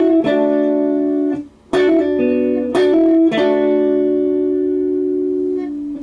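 Electric guitar chords, each struck once and left ringing, a few sustained distorted strums in turn with a short gap, close and alone.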